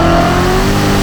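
A Chevrolet C7 Corvette Z06 pulls hard in second gear, its loud engine note droning steadily and climbing slightly in pitch over a brief, close burst.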